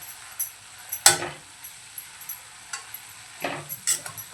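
Radish bhaji cooked Malvani style is stirred in a pan, with a soft steady sizzle and a few sharp scrapes and clinks of the spoon against the pan, quiet and close, no talking.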